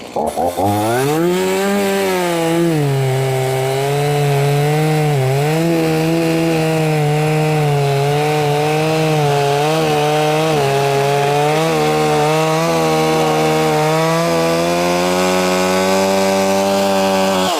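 A chainsaw cutting firewood logs to size for a log splitter, running loud and close for a long stretch, its engine pitch rising and dipping slightly as the chain bites through the wood.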